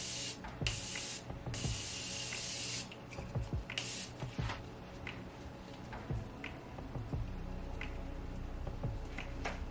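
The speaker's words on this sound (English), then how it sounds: "And now for setting spray, absolute favorite, Morphe Continuous." Morphe Continuous setting spray mists out in two bright, hissing bursts of about a second each, close by, followed by soft rubbing and handling noise with no voices.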